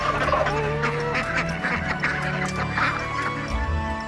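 Farm fowl honk and quack in repeated bursts, close and fairly loud, over steady background noise as birds are let out of their buildings.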